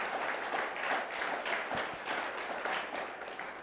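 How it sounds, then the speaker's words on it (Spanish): A church congregation claps loudly for the Holy Spirit in a sustained burst of applause that rises and falls slightly, with faint crowd voices underneath. "Vas a darle fuerte las palmas al Espíritu Santo."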